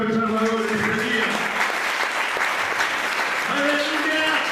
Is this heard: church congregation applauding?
yes